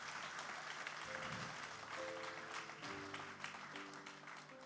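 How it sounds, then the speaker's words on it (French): Applause from a congregation during a French-language church sermon, a steady wash of clapping filling the room and carrying through the whole stretch, with some tonal background sound running underneath. "Oui, tu peux applaudir"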